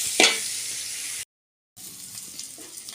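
Curry being sautéed in a pan with salt and spices, a soft steady sizzle with a brief louder stir near the start, then a sudden silent gap before the frying hiss resumes, no talking.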